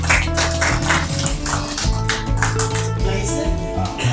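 An audience at a Lions Club of Kolkata installation ceremony claps in dense, steady applause close by, mixed with a voice and a little room noise.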